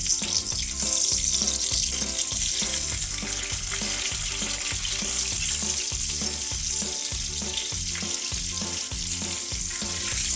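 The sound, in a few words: chicken escalopes frying in a pan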